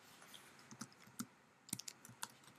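Light, sparse clicks of a computer keyboard come in short irregular bursts as an HTML file name is typed into an anchor tag, faint and close in an otherwise quiet room.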